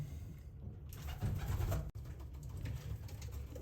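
Racing pigeons coo softly and continuously inside a loft, with low, rolling calls overlapping at close range against a faint background hum.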